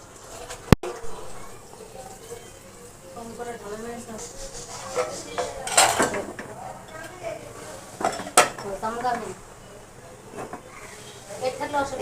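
Metal utensils clink and scrape around a pot as tea leaves go in for milk tea, with scattered sharp taps and soft rattles under a person speaking nearby.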